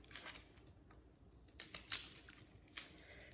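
A shallot peeled by hand for a broccolette salad with maple-Dijon dressing, giving soft dry crinkles and papery tearing of the skin in a few short bursts, close and quiet with no talking.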